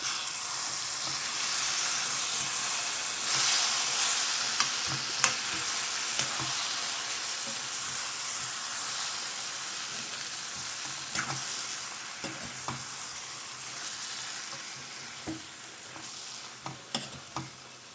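Andhra-style chicken fry being stirred in a pan with fresh coriander and curry leaves, a continuous loud sizzle with repeated scraping stirs of the spoon against the pan.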